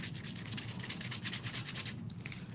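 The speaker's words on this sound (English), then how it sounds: "So we're going to go ahead and just sand that up a little bit." Sandpaper is rubbed by hand across a small cured resin jewelry piece in quick, rhythmic back-and-forth strokes, soft and close, ending with a few lighter scrapes.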